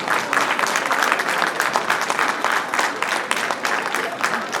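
An audience at a Sankranthi and Republic Day community celebration gives a big round of applause as a guest comes on stage, a loud, sustained wash of clapping with faint crowd murmur.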